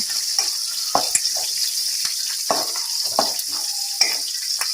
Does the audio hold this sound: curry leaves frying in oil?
yes